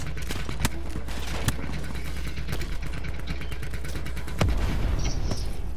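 Gunfire in the video game Call of Duty Black Ops 4: several sharp shots scattered over steady background game noise, with a louder burst and rumble near the end.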